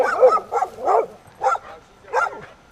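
A dog barks repeatedly in short, yappy bursts, about six barks in uneven rhythm, close and loud with no talking.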